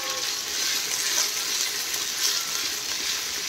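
Garlic and cumin paste sautés in a hot pan for kadhi, giving a steady, close bright sizzle with gentle swells and no voices.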